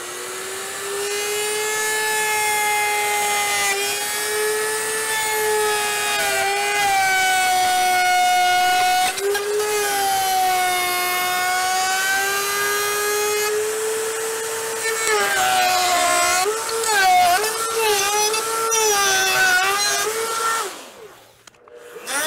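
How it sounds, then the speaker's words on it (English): A handheld router with a bearing-guided bit cuts wood along a template, giving a loud, sustained high whine whose pitch sags and wavers as the bit bites, then rises and cuts off at the end. "Our router bit took a piece of that wood off."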